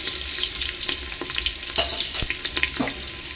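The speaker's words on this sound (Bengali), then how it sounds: "এবার আমি এর মধ্যে দিয়ে দিচ্ছি পেঁয়াজ কুচি" Chopped onion hits hot tempered oil in a clay pot, a loud close sizzle with scraping stirs and clatter over a few seconds.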